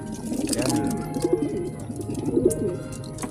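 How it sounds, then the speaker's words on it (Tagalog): Racing pigeons cooing inside a loft, soft repeated throaty coos from several birds close by, with occasional chirps and fluttering against a steady background hum. "agresibo na yung ibon"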